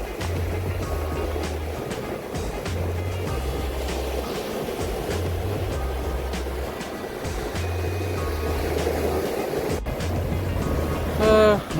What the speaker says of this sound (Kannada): ಇವಾಗ ಅಲೆಗಳು ಸ್ವಲ್ಪ ಜಾಸ್ತಿ ಆಗೋಗಿದೆ